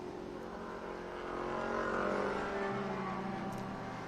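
Race cars work through the corners at Barber, engines droning at a moderate distance and swelling as they pass, a steady mechanical hum without voices.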